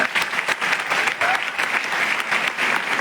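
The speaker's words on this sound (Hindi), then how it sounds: "जोरदार ताली में चाहूंगा।" A crowd at a direct-selling business seminar and training program bursts into loud, sustained applause. The clapping stays dense and close throughout, with little variation.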